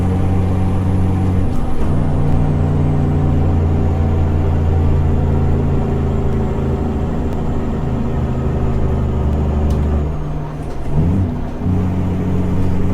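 Truck Jake brake on a Caterpillar C15 engine in American Truck Simulator: a loud, continuous low diesel drone with strong harmonics holds steady, briefly shifting near two seconds and again around ten to eleven seconds as the braking note changes.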